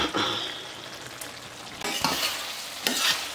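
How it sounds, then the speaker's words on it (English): Spaghetti in fish sauce is stirred in a pan as it cooks, with a continuous sizzle and frying hiss broken by several clear scraping strokes of the spoon, close up and without speech. "Then mix it together and let it cook."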